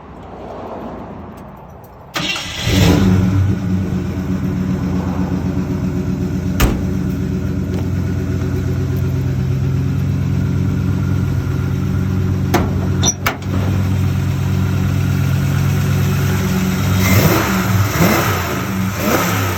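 A 1955 Ford F100 engine cranks and catches after a quiet moment, then settles into a loud, close idle, broken by sharp throttle blips and revs, with a couple of brief clicks along the way.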